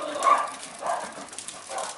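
Several dogs meet a neighbor's dog outdoors and bark and whimper in short bursts, three rises and falls over a few seconds, at moderate distance with no talk.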